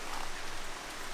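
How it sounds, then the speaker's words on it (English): Steady rain, heard as a dense, even hiss of drops spread across the whole clip, with no break and no voices over it. "we've got rain"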